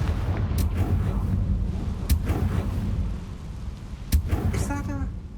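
The Confringo blasting spell in the video game Hogwarts Legacy sets off a loud, booming explosion with a deep rumble and sharp cracks, as a voice calls out over the blast.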